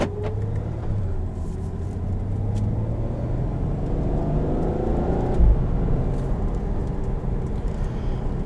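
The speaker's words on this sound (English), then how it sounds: "you'll even hear some DSG, well, what everybody calls them, DSG farts on the upshifts" A 2018 Volkswagen Passat GT with a DSG transmission pulls steadily from inside the cabin, its engine rumble and rising whir climbing through the gears, with a brief blip near the midpoint like an upshift.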